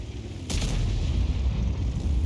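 Artillery fires in World of Tanks, with a single sharp booming shot early on, followed by a low, rumbling battlefield drone that carries on to the end.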